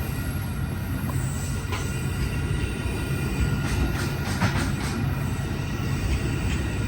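An Amtrak Coast Starlight passenger train (No. 11) rolls past 98th Avenue in Oakland, California, a steady loud rumble of wheels on rail with faint squeals and clicks, close by and continuous.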